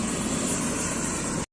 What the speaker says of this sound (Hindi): पहली बार इतना पास से हेलीकॉप्टर देखा था